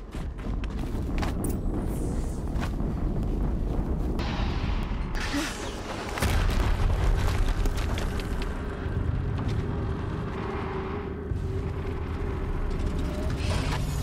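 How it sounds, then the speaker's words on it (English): Explosions and heavy booming combat in the video game Horizon Zero Dawn, a continuous loud rumble with blasts swelling around the middle, dense and sustained with no clear pauses. "Another explosion."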